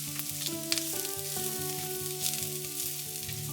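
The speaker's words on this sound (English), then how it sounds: "I'm adding our dry rice into our olive oil" Dry rice hits hot olive oil in a pan for Greek stuffed tomatoes (gemista), giving a steady, close hiss and sizzle that runs throughout beneath a continuous musical backdrop.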